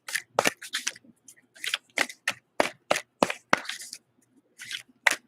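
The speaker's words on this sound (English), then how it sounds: "I'm going to shuffle it one more time." Tarot oracle cards are shuffled by hand in quick, crisp bursts of riffling and snapping, a dozen or so sharp clustered flicks spread unevenly, close and fairly quiet against silence.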